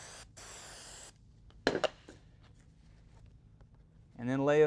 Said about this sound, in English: Now take your adhesive, spray it on the backing